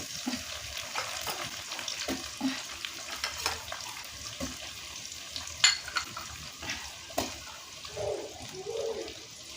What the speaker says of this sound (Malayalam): ചട്ടുകം കൊണ്ട് നന്നായി മിക്സ് ചെയ്യണം.